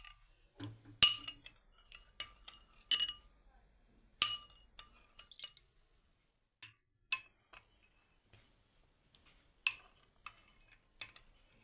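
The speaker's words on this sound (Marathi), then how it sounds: "तर याच्यामध्ये मस्त असं घट्ट दूध ओतून घ्यायचंय, मिक्स करून घेऊया।" Spoon clinking against a glass or bowl while mixing thick milk into garden cress seeds for kheer, with irregular sharp taps, close and fairly quiet, and a voice speaking briefly early on.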